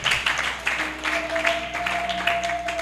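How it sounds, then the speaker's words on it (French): A church congregation applauds in steady, fairly loud clapping that carries on throughout, with a held tone and some murmured voices underneath. "Acclamons pour la gloire de notre Dieu"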